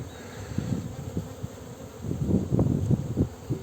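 Buckfast honey bees working at a hive in rainy May weather, a low buzzing hum with individual bees droning past close by, swelling louder toward the end, with no voices.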